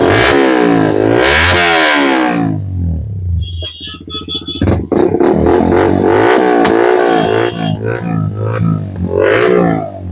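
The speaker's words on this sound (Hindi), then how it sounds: "अब आपको जो मैं आपको एग्जॉस्ट का साउंड सुना देता हूँ, पहले तो बिना डीबी किलर का आप सुन लो" A Yamaha R15 V4 motorcycle with a full-system exhaust and no dB killer revs hard several times, loud and close, with rising and falling engine blips and throttle pops between bursts.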